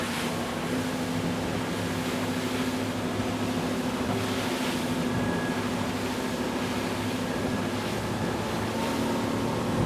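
A Sea Ray SDX 250 outboard motorboat cruises at about 4,300 RPM and 41 km/h, a constant loud engine drone mixed with wind and water rush, no talking.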